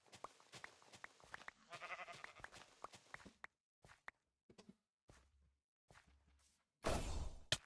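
A sheep bleats in Minecraft amid game sound effects, short scattered calls with brief gaps, followed by a loud burst of noise at the end.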